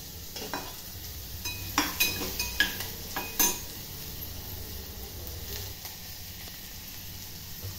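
Onion and tomato sizzle in a pan while a spoon scrapes and clinks against the metal in a few quick stirring strokes, then a steady low frying hiss continues alone.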